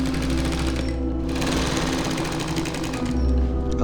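Sewing machine stitching denim, a loud, dense, fast mechanical rattle that runs steadily throughout with no talk.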